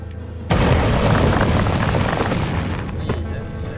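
Dynamite blast in the mining game Cave Digger, a sudden loud boom that keeps roaring as a dense rumble for several seconds, slowly fading.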